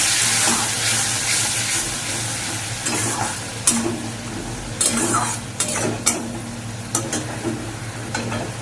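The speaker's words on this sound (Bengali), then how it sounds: "জলটা দিয়ে ভালো করে কষিয়ে নেবো মশলাটা" Masala for bata fish jhal sizzles steadily in a hot pan after water is added, with a spoon scraping and clattering against the pan as it is stirred, loud and close.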